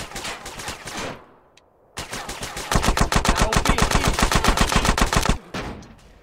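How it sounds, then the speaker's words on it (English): Rapid automatic gunfire in the video game GTA: San Andreas Definitive Edition: a few scattered shots, a short lull, then a long loud sustained burst of evenly spaced rounds lasting several seconds before cutting off. "Hell, Stuart, that was a sniper, nice"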